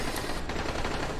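Rapid bursts of machine gun fire in the zombie survival game Dying Light, a dense, loud and continuous rattle of shots that fills the whole moment without audible talk.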